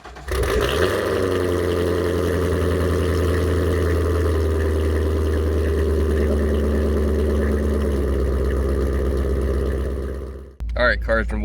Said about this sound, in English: get a cold start, and go for a ride.